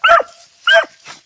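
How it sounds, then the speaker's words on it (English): Beagle hunting dogs bark close and loud outdoors, two sharp yelping barks in quick succession followed by a fainter third. "Yeah, you know why they're barking."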